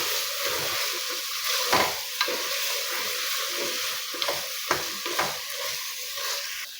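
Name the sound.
stirring soaked soya chunks into frying vegetables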